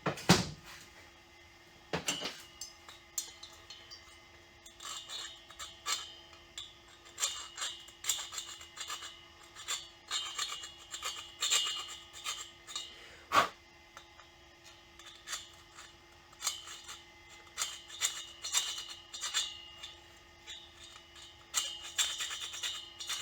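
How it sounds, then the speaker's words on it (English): A small round chainsaw sharpening file scraping away casting flash on metal parts of a 65cc backpack leaf blower, a quiet stream of short irregular rasping strokes, close up with no talking. "maybe the round file will take care of that. The small chainsaw sharpening round file."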